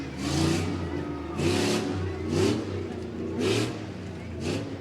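A 2001 Dodge Durango in a rough truck race at the Medina County Fair, its engine revving in five rhythmic surges over a steady roar, loud and fairly close, with an announcer's voice faintly mixed in.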